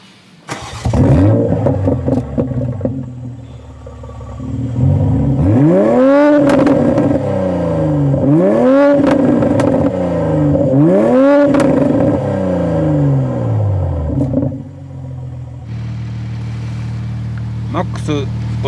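A Toyota Supra tuned by HKS, with HKS downsuspension and tuned exhaust, starts up, settles into a loud idle, then gets blipped through three sharp rising revs before dropping back, close up, with a voice briefly over it.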